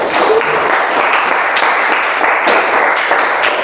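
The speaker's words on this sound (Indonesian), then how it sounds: "Tepuk tangan sekali lagi untuk kelompok 6, Nak." A classroom of students gives sustained applause for a student group, dense steady clapping from many hands filling the room throughout.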